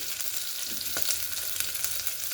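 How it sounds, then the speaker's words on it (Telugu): Carrot and capsicum going into a hot pan for vegetable kichidi, a close, bright sizzle of frying with a few soft stirring knocks, steady and unbroken. "ఇప్పుడు వెజిటబుల్స్ అన్నీ వేసేసుకుందాం. Carrot, capsicum,"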